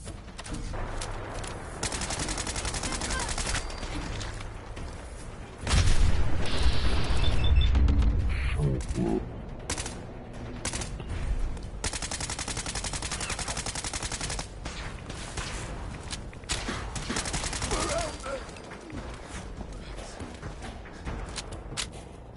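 Fallout 4 combat: bursts of automatic gunfire and scattered single shots, loud and close, crackle in clusters over game ambience and mechanical clanks, with heavier blasts in the middle.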